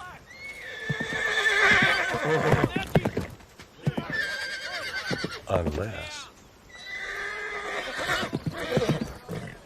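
A horse whinnies several times in shrill, quavering bursts, mixed with people talking over it.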